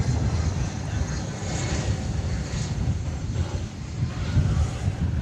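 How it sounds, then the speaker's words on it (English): A Cessna Citation Latitude business jet arriving at Dallas/Fort Worth airport from Oklahoma City gives a faint, steady jet engine rumble with a soft whine, fluttering with wind against the microphone and no talk. "Here's a Citation Latitude Cessna coming in from Oklahoma City."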